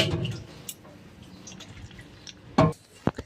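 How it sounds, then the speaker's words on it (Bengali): Water drains from hot mashed boiled food, giving soft drips and small splashes, then a couple of sharper liquid spatters near the end, close and fairly quiet. "চটকিয়ে ফেলে দিয়ে জলটাকে ঝরিয়ে নেব।"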